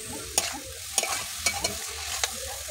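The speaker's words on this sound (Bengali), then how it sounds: "তো একটু ভালো করে নেড়ে নিচ্ছি, নুন দিয়ে দিয়েছি, একটু ভালো করে নেড়ে নিচ্ছি" Spices and salt frying in a pan while being stirred: a soft sizzle underneath, broken by several distinct spoon scrapes and knocks against the pan at irregular intervals, close up.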